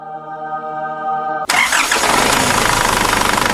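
An Isuzu Panther diesel car engine cranks with a steady whirring starter, then catches and roars into a loud, rough idle.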